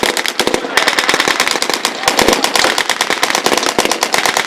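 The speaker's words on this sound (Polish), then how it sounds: "Matrygielski zdejmuje CKM i opierając go na chłopnicy na workach strzela w kierunku Niemców" Heavy machine gun fire at a Westerplatte battle reenactment, rapid dense bursts of loud close shots crackling continuously with no voices.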